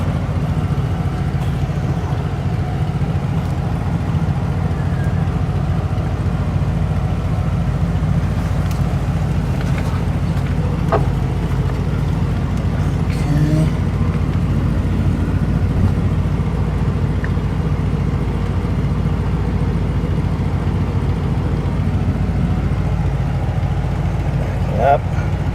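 A 1988 TravelCraft 20-foot Class B motorhome engine runs at a steady, constant low rumble while the vehicle is put into reverse, with someone talking over it throughout.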